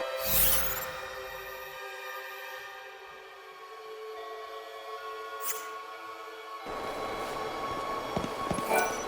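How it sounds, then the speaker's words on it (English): A train pulls into a station in Lightning Returns: Final Fantasy XIII, a loud rumbling roll with sustained tonal hum, brief quieter stretch, then swelling mechanical clatter and a whoosh as it arrives. "The train's here."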